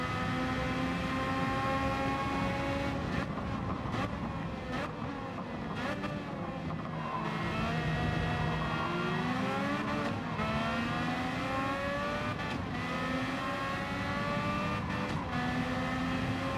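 Race cars lapping in Gran Turismo 7 online lobby racing, a steady, continuous engine drone with shifting revs and pitch sweeps as cars pass, loud and unbroken throughout.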